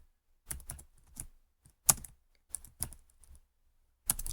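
Several short bursts of keystrokes land on a computer keyboard, close and crisp, separated by brief pauses in an otherwise quiet room.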